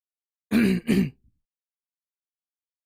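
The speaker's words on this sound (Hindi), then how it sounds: "खांसी भी हो गया" A man with a cold clears his throat twice in quick succession, rough and close, followed by silence.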